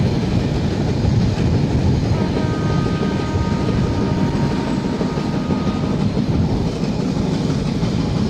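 The Rupsha Express rolls through Phultala railway station, a steady loud rumble of the moving train with a continuous rail roar and faint clatter that hold throughout, heard from on board.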